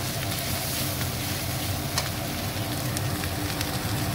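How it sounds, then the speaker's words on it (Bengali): Egg frying with noodles in a hot pan, a steady dense sizzle and crackle that runs continuously at close range without pause. "এবার ডিমটাকে ভালো করে এর সাথে পোড়া পোড়া করে নেব।"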